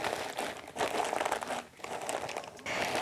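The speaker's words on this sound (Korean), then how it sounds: "꼭 비닐로 수분이 날아가지 않게 덮어주세요." Plastic wrap crinkles and rustles as it is spread over salted napa cabbage for kimchi, a close, continuous crackling with brief dips across the whole stretch and no talking.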